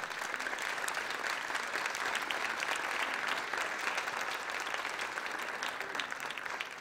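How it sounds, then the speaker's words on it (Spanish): An audience at an academic presentation on online learning applauds in a continuous wash of clapping, steady and moderately soft with no voices standing out. "un fuerte aplauso también para mi maestro Luis González"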